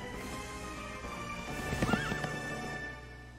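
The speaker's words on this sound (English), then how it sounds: "That's a strong horse if I've ever seen one." A horse neighs once in a high, wavering whinny over a steady background hum, with faint hoof clip-clop, in the video game Kingdom Hearts III; short and fairly quiet.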